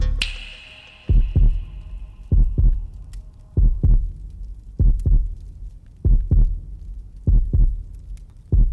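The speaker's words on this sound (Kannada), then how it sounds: "ನಿನ್ನ ಎದೆ ಬಡಿತ, ನಿನ್ನ ಹಾರ್ಟ್ ಬೀಟ್." A heavy, booming heartbeat sound effect from a Kannada suspense thriller film scene pulses in steady paired thuds, loud and close, with a low hum underneath and no talking.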